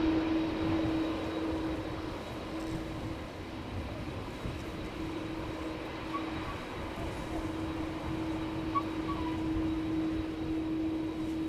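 A Cargolux Boeing 747 lands at Schiphol Airport, its engines a steady, moderate roar at some distance, with a sustained tonal whine running alongside the broad rumble throughout.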